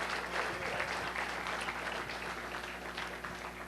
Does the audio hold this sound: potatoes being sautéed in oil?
no